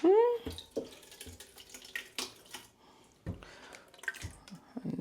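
Water from a tap runs and splashes as ginger is rinsed in a big pot, with uneven splashes, clunks and drips at moderate loudness over a faint background.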